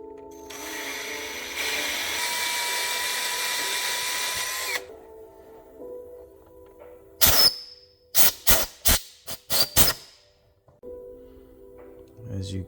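A power drill with tape marking depth on its bit whirs steadily for several seconds while boring a hole, then falls silent and is followed by a run of sharp close taps and clacks and a brief softer whir at the end.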